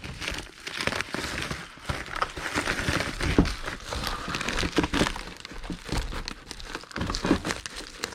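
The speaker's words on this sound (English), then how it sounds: "So I'm going to go ahead and put this in the bubble mailer" Needlepoint kit being pushed into a bubble mailer, with steady crinkling and crackling of plastic packaging and bubble wrap up close, continuous handling noise throughout with no talking.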